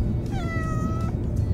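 A single drawn-out cat meow, clear and fairly close, over a low rumbling background.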